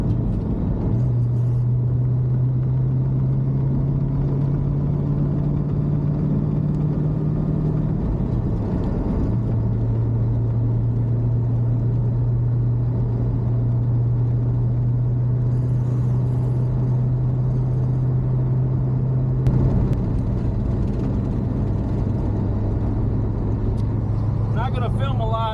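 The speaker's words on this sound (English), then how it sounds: "But here we are, driving the Chevelle Powertrain home." A Chevelle with a newly installed powertrain driving down a road, its engine a steady low hum and rumble inside the cabin with slight pitch shifts, while a person talks over it.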